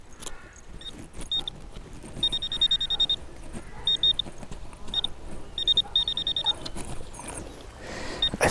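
A metal detector gives a buzzy, high-pitched target tone in short repeated beeps and longer bursts, faint over rustling outdoor noise.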